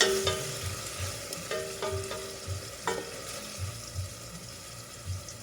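Tomatoes and fish bagoong sauté in a pan, giving a soft, steady sizzle with rhythmic stirring scrapes and a few light clinks, quiet and close.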